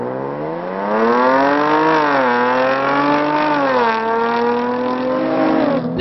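A Jaguar F-Type sports car engine accelerating hard and close, rising in pitch through gear changes with a loud, continuous roar.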